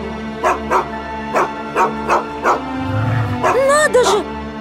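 A dog in an audio drama set in wartime barks about six times in an even rhythm, loud and close, then ends with a rising, wavering whine over a low background hum.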